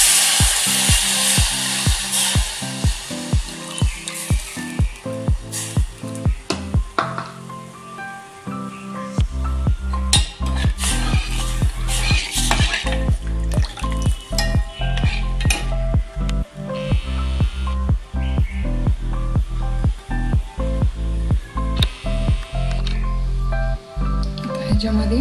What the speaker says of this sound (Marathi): ह्याच्यामध्ये बेसन मिक्स केलेलं ताक घालायचं